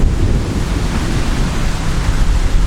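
Loud, gusty wind blowing outdoors in Mexico, buffeting the microphone with a continuous low rumbling roar that swells and dips without pause and no other sounds clearly audible.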